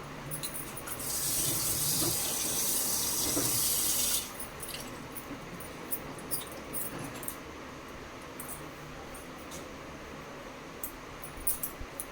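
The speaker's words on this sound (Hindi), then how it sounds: "तो मैं इसमें जो है गोभियों को वॉश कर लेती हूँ, अच्छे से धो लेती हूँ।" Cauliflower is washed under a running kitchen tap, with a steady hiss of water into the sink for a few seconds, then quieter splashes and handling sounds.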